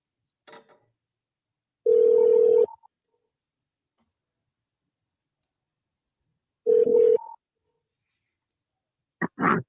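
Telephone tones while placing a call to someone: two steady tone bursts about a second long, separated by silence, with short clicks before and after, clear and alone with no talking.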